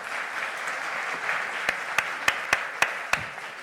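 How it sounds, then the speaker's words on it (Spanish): Applause from an audience at a gathering with children in Colombia: a soft, steady patter of clapping, then several sharp, loud claps ringing out near the end. "Por favor, un fuerte aplauso."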